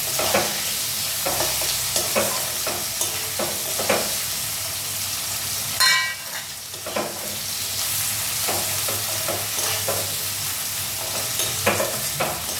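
Onions sizzle and fry in a pan for a potato and eggplant curry, a steady close hiss broken by frequent scraping stirs and one sharper burst of crackle partway through.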